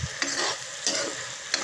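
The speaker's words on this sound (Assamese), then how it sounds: "এয়া ঢেকীয়া ভাজি আছোঁ" Fiddlehead fern (dhekia) frying uncovered in a pan, a steady close sizzle with a few sharp stirring scrapes at intervals, no talk.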